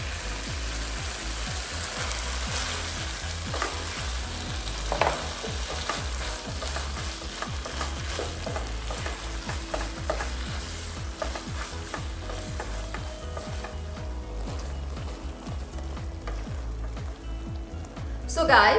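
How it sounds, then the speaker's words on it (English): Squid stir-fries in chili paste over a high flame for mee goreng mamak, a loud continuous sizzle and crackle with the rhythmic scrape of a spatula stirring through the wok, close and with no voices. "next we are going to go in with the squid."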